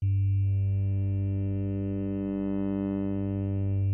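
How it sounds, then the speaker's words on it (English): A sustained, harmonically rich tone from a Korg minilogue xd's morphing wavetable oscillator holds steady for four seconds, its timbre slowly shifting and brightening midway before settling back. "Out of the box it comes with a morphing wavetable oscillator that sounds like this."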